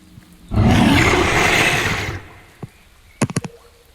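In a tabletop role-playing game, a loud, sustained beastly roar sound effect rises suddenly, fades out over about a second and a half, and is followed by a few short, sharp clicks.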